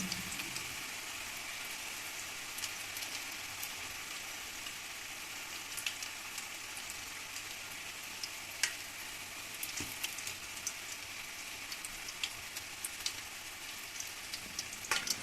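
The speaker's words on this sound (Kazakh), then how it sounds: "Орап дайындап алған лаваштарымызды отта қызып тұрған майға салып, жақсылап қуырып аламыз." Lavash pieces frying in hot oil, sizzling steadily with a dense, crackling hiss and scattered sharper pops throughout, close and fairly quiet, with no voices.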